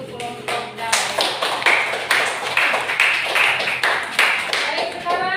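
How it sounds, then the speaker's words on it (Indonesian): Classroom applause for a student group: a run of sharp, fairly loud claps in a brisk, slightly uneven rhythm from a small group of students. "tepuk tangan untuk kelompok damai."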